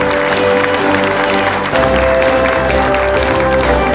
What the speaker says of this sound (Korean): 뜻깊은 발표를 해주신 광노정 사장님께 큰 박수 부탁드립니다.